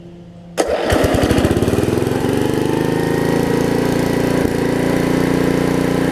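A Snapper RER riding mower with a broken governor starts with a sharp kick, then its small engine settles into a loud, steady running drone close by, with a faint rattle and no talking.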